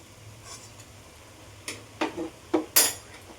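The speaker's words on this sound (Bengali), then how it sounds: "আবার একটুখানি আমি ঢেকে রেখে দেব।" A metal lid is set over a pan of Bengali ash gourd leaf vegetables while they cook. A quiet stretch ends in a few close metallic clanks and a final ringing clatter as the lid settles.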